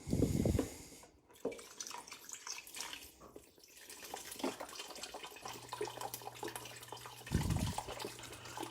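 A thickening mixture is poured into a pot of gnocchi chicken soup, with liquid pouring and splashing, a sharp burst at the start and another near the end, and softer dripping and clatter between.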